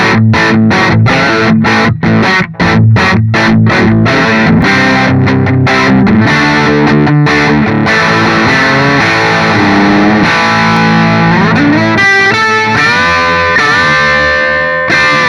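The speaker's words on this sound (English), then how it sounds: "That's a Gibson sound coming through a Marshall style amp." A heavily distorted Gibson SG Fusion electric guitar plays loud chords and riffs through an overdriven Marshall-style amp, ending on a sustained, ringing chord.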